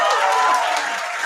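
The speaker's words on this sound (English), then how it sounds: "Let's give a round of applause for them." Applause for the admins at a youth parliament event, a dense wash of crowd clapping with a murmur of voices underneath, loud and close throughout.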